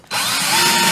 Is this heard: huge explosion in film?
no